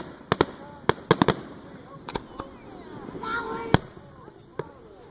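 Fireworks bang in a string of sharp, loud explosions at an Ohio fireworks show in 2016, a quick cluster early on and then scattered single booms, with people chatting casually in between.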